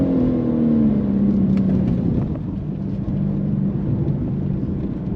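A manual BMW G82 M4 pulls hard in third gear on the Nürburgring, its engine a loud, steady cabin drone, with a falling pitch early on and then an even roar.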